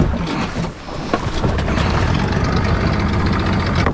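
A boat engine idles after a choke start on a remote south coast: a loud, close, continuous rumbling drone with a rough, churning texture and no pauses.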